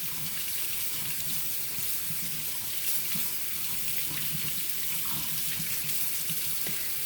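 Hot water runs steadily from a sink tap over fingers, a continuous close hiss and splash at even loudness for the whole stretch.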